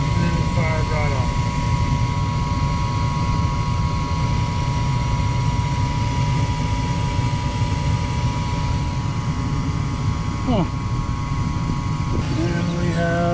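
A residential HVAC furnace runs steadily after firing up, its broad, even hum and whoosh filling the space throughout, while a voice speaks over it at moments.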